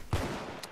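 A quick burst of rapid gunfire in the online shooter Arsenal, a sharp close shot followed by a short rattle of rounds, lasting under a second.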